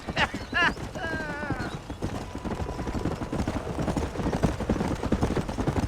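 Horse hooves clip-clop steadily in Red Dead Redemption, a brisk unbroken rhythm that carries through the whole stretch, with a short whinny near the start.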